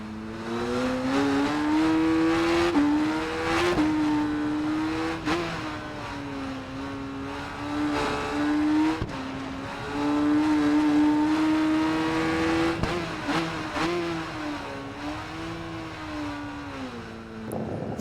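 A Ducati motorcycle laps a race track, its engine a steady loud tone that rises and falls with throttle and gear changes through the whole stretch, heard up close with no talking.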